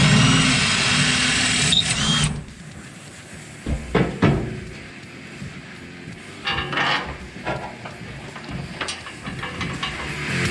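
A power drill bores bolt holes in truck bed frame rails in a garage: a loud drill run at the start, then a series of clunks, bumps and tool handling noises nearby.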